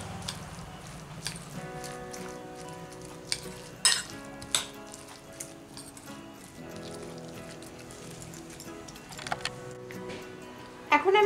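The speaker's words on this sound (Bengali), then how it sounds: "আবারও এটাকে ভালো করে মিশিয়ে নিচ্ছি।" Cauliflower pakora batter with cornflour being stirred by hand in a bowl, a steady wet squelching with sharper clicks of the spoon against the bowl at intervals, close and moderately loud, with background music throughout.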